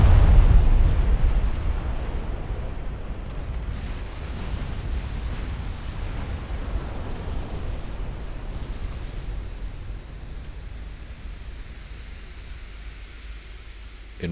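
In the naval warship game Ultimate Admiral Dreadnoughts, a heavy blast of ship gunfire hits at the start, then a deep rumbling roar slowly fades over several seconds, with a faint thump near the end.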